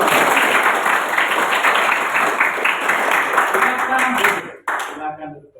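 Classroom of students clapping together in a sustained, dense round of applause that fills the room, ending abruptly with a few scattered claps and murmurs.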